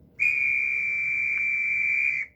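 A single steady, high-pitched model train whistle tone held for about two seconds, clean and fairly close, starting and stopping abruptly over faint background hum.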